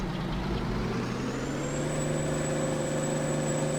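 A Peterbilt truck hauling a flatbed in a farming simulator, a steady, loud diesel engine drone with a constant low rumble and a faint rising whine, heard alone with no talk.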